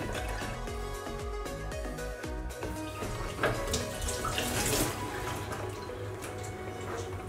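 Kitchen tap running steadily into a sink while hands are washed, a close, continuous splashing flow that shifts slightly in tone as the hands move through the stream.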